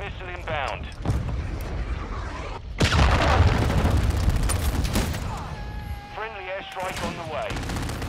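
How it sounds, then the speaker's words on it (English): Explosions and gunfire from a friendly cruise missile strike in the Modern Warfare II game on PlayStation 5: a heavy blast around the third second rolls into sustained loud rumbling and crackling, with game voices speaking before and after. "Friendly cruise missile inbound."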